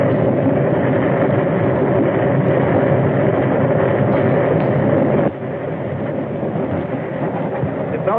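A steady, loud rumble of a train rolling along the tracks, continuous throughout with a slight drop in level partway through.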